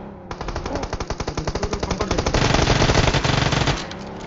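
An Uzi submachine gun fires in a video game, loud rapid automatic bursts of evenly spaced shots, the rhythm blurring into a dense continuous rattle before cutting off.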